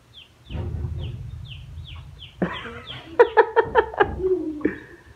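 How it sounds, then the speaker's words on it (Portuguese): Baby chicks give a run of high, thin descending peeps close by, then a brief burst of louder, rhythmic clucking calls, with some background rustling and faint voices. "Olha o pintinho de João."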